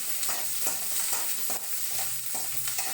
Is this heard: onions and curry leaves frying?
yes